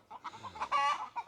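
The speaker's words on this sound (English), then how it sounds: "A minute and a half of chickens being chickens." Barred Rock chickens cluck close by in short, choppy bursts that rise into one brief louder squawk.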